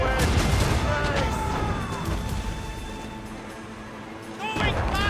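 Ship cannons firing a broadside in Assassin's Creed Rogue naval combat, a dense loud rumble of blasts with crashing impacts, continuous and heavy, with shouted commands over it.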